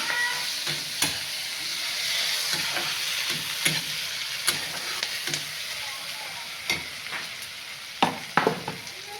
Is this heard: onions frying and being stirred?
yes